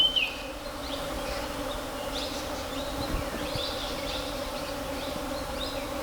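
Bees and other insects buzz steadily around robusta coffee blossoms on a plantation, a continuous droning hum with occasional closer fly-bys, moderate and unbroken by talk.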